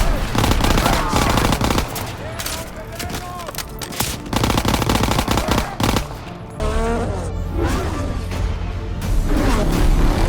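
Rapid bursts of gunfire from a video game shooter, loud machine-gun volleys mixed with single shots and whooshes, layered over a voice.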